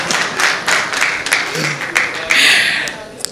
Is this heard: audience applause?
yes